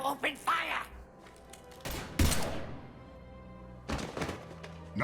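A single sharp burst of gunfire cracks out in a Mass Effect 3 combat scene, amid loud in-game speech before and after.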